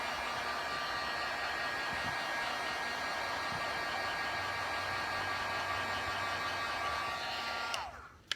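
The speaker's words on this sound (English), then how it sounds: "Again, I'm going to use my heat gun." Steady loud blowing whir of a heat gun drying resin paint on a 3D fish piece, running close and continuously before cutting off near the end.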